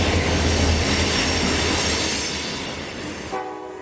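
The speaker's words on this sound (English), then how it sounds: "When Q613 finally came around the bend and blew that horn for the 9th Street crossing" Freight train Q613, running phosphate empties and sulfur loads, rumbles past loud and close with squealing wheels, then a horn blast rings out for a crossing near the end.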